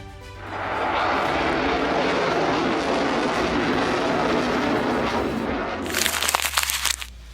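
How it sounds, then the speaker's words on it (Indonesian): Loud, sustained roar of a Lockheed Martin F-35 stealth fighter jet, steady broadband jet noise holding for several seconds before crackling bursts near the end. "Jet tempur itu adalah F-35."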